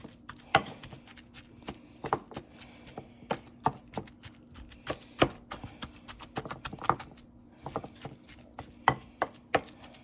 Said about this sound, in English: And we'll go in and chop this up a little bit